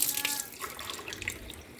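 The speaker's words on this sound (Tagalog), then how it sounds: "Lalagyan ko siya ng 6 na tubig, basong tubig." Water poured from a glass into coconut milk for maja blanca, a close splashing pour with small drips and trickles, loudest at the start and easing off.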